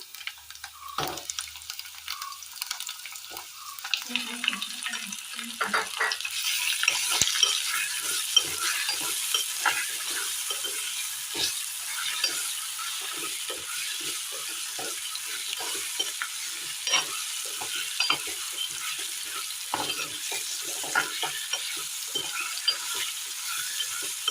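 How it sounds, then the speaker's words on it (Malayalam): Marinated fish coated in turmeric, chili and coconut oil goes into a hot pan for a Kerala-style curry. A loud, steady sizzle of frying continues throughout, with light stirring and scraping and no talking. "ഇനി ഇതിലേക്ക് മഞ്ഞളും മുളകും വെളിച്ചെണ്ണയും കൂടി കുഴച്ച് വെച്ച മീൻ ഇട്ട് കൊടുക്കാം"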